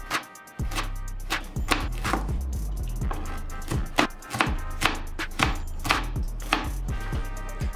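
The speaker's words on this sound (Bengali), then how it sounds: "তো আমি একটা গাজর কেটে নিব।" A knife chops a carrot on a cutting board for chicken bhuna, giving sharp close-up knocks in a quick, fairly steady rhythm, roughly a dozen strikes with brief gaps between them.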